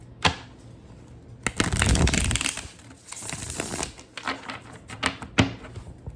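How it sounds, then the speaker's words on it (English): A Wild Unknown tarot deck is shuffled by hand in a quiet room, giving several bursts of riffling and soft card flicks with short pauses between them. No one speaks. "We'll just get these cards shuffled and start pulling."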